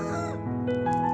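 Chickens cluck close by in a steady, overlapping stream of short calls, with a few higher notes near the end and no talking.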